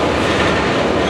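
Switcher locomotive moving rail cars in the Denver North rail yard, a loud, dense rumble of wheels and rolling stock, steady and close for about a second.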